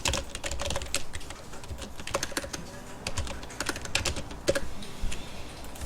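Rapid, irregular clatter of a computer keyboard as an AutoCAD command is typed, with close keystrokes and occasional louder taps continuing throughout.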